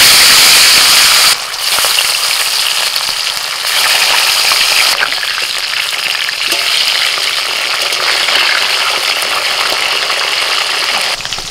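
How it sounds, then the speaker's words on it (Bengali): Fish goes into hot mustard oil in a wok and erupts in a loud, bright hissing sizzle, with a brief drop and renewed surges as pieces are added, then a sustained crackle with faint clinks. "এবার মাছ ছেড়ে দিচ্ছি।"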